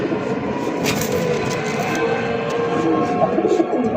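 Pigeons offered for sale coo in low, repeated throaty calls at close range over a constant background hum.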